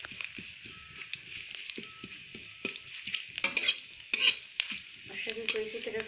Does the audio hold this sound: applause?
no